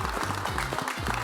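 Applause from an audience at the Sarmentelles festival, a steady dense patter of clapping that fills the whole moment over a low musical hum.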